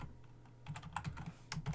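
Keys clatter on a computer keyboard during network firewall configuration: a close, uneven run of quick taps that thickens into a denser burst toward the end, with no voices.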